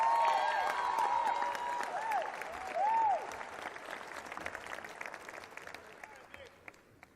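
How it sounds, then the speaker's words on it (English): Audience applause at a city address event for Nick Spaminato, a sustained wash of many hands clapping at the start that gradually thins and fades, with a voice briefly heard over it. "how about a nice, fine round of applause for Nick Spaminato"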